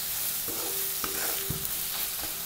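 Garam masala and chili powders roasting in a pan while a spoon stirs them, making several close, distinct scraping strokes over a light sizzle, with no speech.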